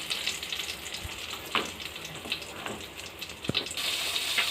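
Prawns frying in hot oil, a close, soft continuous sizzle with a few sharp pops and crackles scattered through it, no voices.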